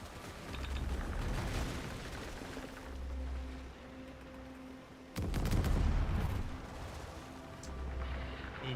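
Ship cannons booming in World of Sea Battles, several heavy low blasts spaced a few seconds apart, with the loudest volley around the middle, set against a continuous background rumble.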